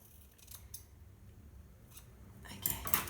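Scissors trimming a person's own hair at home, giving a few crisp, close snips at irregular intervals, with a quick cluster near the end and no talking.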